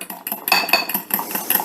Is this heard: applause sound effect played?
no